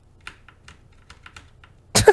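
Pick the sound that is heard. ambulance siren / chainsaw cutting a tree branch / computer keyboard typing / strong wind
computer keyboard typing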